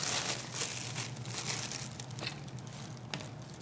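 A plastic freezer bag is handled while preparing an Easter nest cake, giving soft, close crinkling and rustling that runs quietly throughout with a few sharper crackles.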